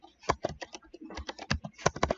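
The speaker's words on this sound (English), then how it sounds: "what we want to do is we want to type in" Quick, uneven bursts of keystrokes on a computer keyboard, close and clear, tapping out a short word in several clusters with no talk over them.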